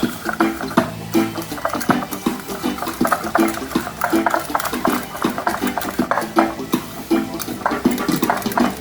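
Sea salt is mixed by hand into raw pork shoulder in a bowl, giving continuous wet squelching and rustling with scraping clinks, steady and close throughout.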